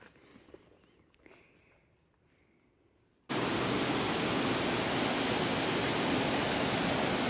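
Clear stream water flows through montane rainforest on Kilimanjaro, a loud, dense, steady rush that begins abruptly after a few seconds of quiet forest ambience and light footsteps.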